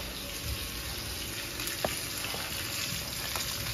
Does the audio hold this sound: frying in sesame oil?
yes